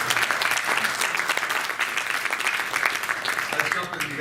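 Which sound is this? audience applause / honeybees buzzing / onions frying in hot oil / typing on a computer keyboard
audience applause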